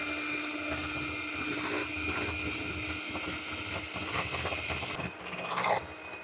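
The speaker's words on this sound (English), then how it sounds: "let's just get out this hand mixer because it's got some lumps in it" An electric hand mixer beats a thick, creamy fruit dip with a steady motor whir and soft churning, at moderate volume and with slight changes in pitch near the end.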